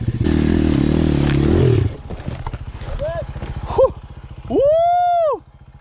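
A custom Apollo RFZ 150cc pit bike runs downhill through brush. Its engine putters and revs under a shouting rider's voice, and the rider whoops loudly near the end.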